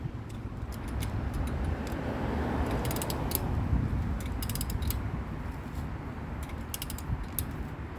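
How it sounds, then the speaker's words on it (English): A socket ratchet clicks in short bursts of rapid ticks while lug nuts are turned during a tire change on a 2016 Toyota Camry, set against a steady low background hum. "Make sure that socket is all the way in before you turn it."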